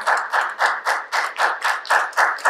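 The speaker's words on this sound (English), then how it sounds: "Let's give him a clap offering tonight." Rhythmic group clapping from a church congregation at an evening service, about nine steady in-time claps, close and loud with no talking.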